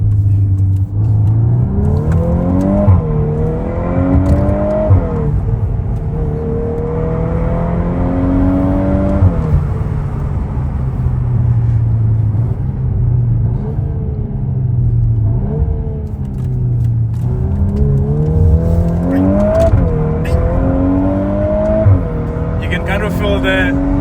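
A VW Golf 8R accelerates hard through its gears, the engine rising and dropping repeatedly with a steady rumble from inside the cabin, while someone talks over it.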